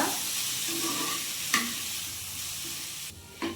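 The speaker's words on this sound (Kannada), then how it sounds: "ಇನ್ನೇನು ಪೂರ ಒಂಜಿ 2 ನಿಮಿಷ ಫ್ರೈ ಮಲ್ತೊಂದ" Chicken puli munchi being stir-fried in a pan with tomato, giving a steady close sizzle broken by a few sharp scrapes and clinks of the spoon.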